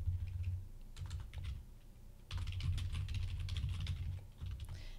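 Typing on a computer keyboard, several quick runs of soft clicking keystrokes with brief gaps, close and quiet over a low steady hum.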